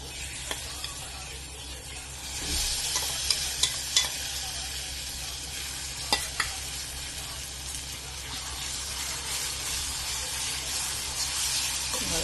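Hot tempering of spices poured into a raw mango chutney, a sharp hiss and splash followed by a steady sizzle and soft stirring scrapes, close by and without speech.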